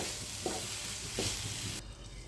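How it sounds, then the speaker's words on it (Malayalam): Kovakka (ivy gourd) thoran frying in a pan gives a steady, close sizzle, with two soft stirring scrapes along the way before the sound drops off near the end. No one talks. "ഇടയ്ക്കിടയ്ക്ക് 2 മിനിറ്റ് കൂടുമ്പോൾ ഒന്ന് തുറന്ന് നന്നായി ഇളക്കി കൊടുക്കണം."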